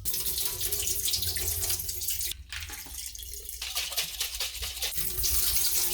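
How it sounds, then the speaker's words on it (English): Running water rinses a jar of homemade butter in a kitchen sink: a steady, loud splashing stream with a brief dip and shifting gurgles as the flow hits the jar and butter. "give it sort of one last really thorough rinse with the ice water"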